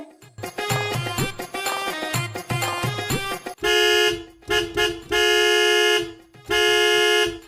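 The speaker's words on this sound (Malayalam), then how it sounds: "നീ എന്തിനെങ്ങനെ ഹോൺ അടിക്കുന്നേ?" A car horn honks loudly in repeated blasts, short toots first and then several long sustained honks.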